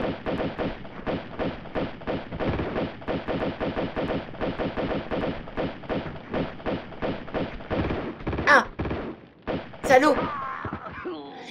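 Rapid gunfire in the Tomb Raider II catacombs level as an Uzi enemy and a pistol enemy are taken down, a dense stream of close, loud shots with a couple of sharper bursts near the end.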